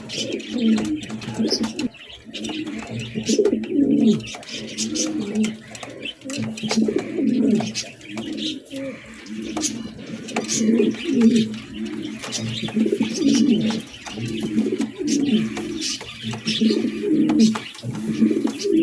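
Several pigeons kept for sale, including a white King, coo close by in rolling, repeated phrases that carry on steadily throughout.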